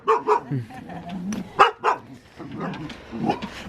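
Dogs guarding very old houses in the Korean countryside bark repeatedly, sharp loud barks and yips near and farther off, mixed with voices talking over them.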